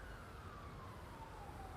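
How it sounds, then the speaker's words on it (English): Emergency vehicle sirens wail faintly in the distance at a busy train-crash scene in GTA 5, with one steady, slowly falling tone under a constant wash of background noise. "Yep, there's the sirens in the background."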